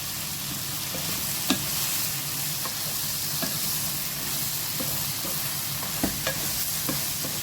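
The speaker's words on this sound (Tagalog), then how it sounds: "Durugin natin ng dahan-dahan habang paghalo-haloin siya." Squash simmering in coconut milk in a pot gives a steady, bubbling sizzle while a spoon stirs and mashes it, with a few soft taps against the pot throughout.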